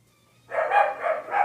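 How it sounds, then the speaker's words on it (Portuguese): Dogs barking at night, heard as a short burst of yips and barks close by with no talk over them. "Olha os cachorros latindo."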